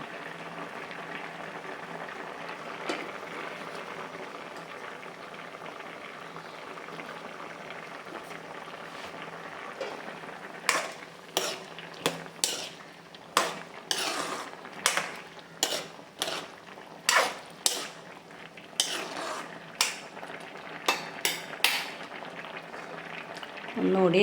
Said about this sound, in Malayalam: ഇത് നല്ലപോലെ തിളച്ചു.